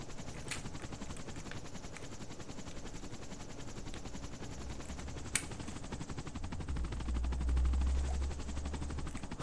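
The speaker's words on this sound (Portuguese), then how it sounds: "Aqui tem outro helicóptero já." A helicopter whirs steadily in the DayZ video game, its rotor drone running throughout at moderate distance, swelling louder near the end, with a couple of sharp gunshot-like cracks along the way.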